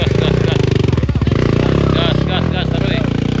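A motorcycle engine revs hard and steadily while climbing a steep hill during a hill-climb dare contest, loud and close, with people shouting encouragement over it.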